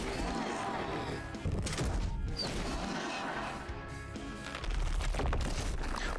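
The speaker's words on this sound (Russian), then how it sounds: "Теперь надо этих взрывать обязательно." Repeated explosions from the turn-based strategy video game The Last Spell, loud crashing and thumping blasts layered densely over game music, with no talk.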